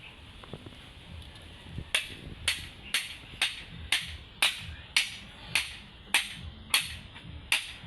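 A steady series of sharp, evenly spaced knocks, about one every half second, like hammer blows on a hard surface, fairly close and distinct.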